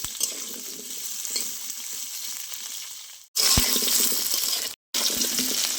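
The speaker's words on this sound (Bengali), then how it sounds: "তেলের ওপরে আলুগুলো নেড়ে চেড়ে একটু ভেজে নেবো" Cut potatoes sizzle steadily in hot oil while being stirred, a close crackling hiss broken by short cuts and a few utensil scrapes, no one speaking.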